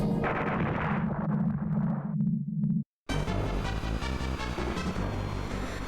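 Retro SNES Star Fox game audio with loud, dense booming bomb explosions over the soundtrack, continuous for several seconds with a brief silent gap midway before another heavy burst of blasts.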